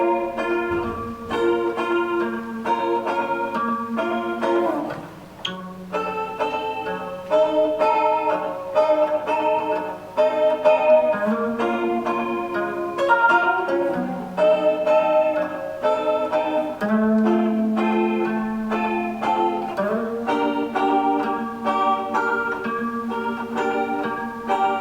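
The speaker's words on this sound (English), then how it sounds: "these really nice voicings for the main chords with a bit of trem bar to make it sound like spooky David Lynch slow 30s room" Slow, reverberant electric guitar chords with a gently wavering tremolo-bar bend carry a spooky David Lynch mood. They ring out one after another for about twenty-five seconds, with no voices.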